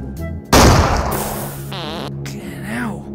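Shotgun fired in a video game, one sharp loud blast followed by a decaying rumble, then clanking game sounds and a voice talking over them.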